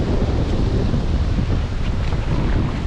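Heavy ocean surf washes over and around someone standing in the water on an El Salvador beach, with a loud continuous roar and gusty wind buffeting a GoPro microphone.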